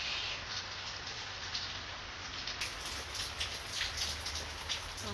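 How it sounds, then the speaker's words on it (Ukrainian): Steady rain falls in foggy weather outdoors, an even close hiss of pattering drops with no talk, continuous throughout. "іде дощ"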